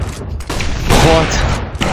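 Rapid gunfire rattles in Counter-Strike: Global Offensive on the Mirage map, a loud close burst of shots mixed with game sounds and a voice talking over it.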